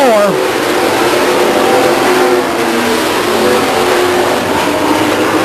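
Race trucks roaring past the grandstand out of turn 4 at Stockton 99 Speedway, a loud continuous engine roar with rising revs, close and dense, overlaid with crowd and commentary.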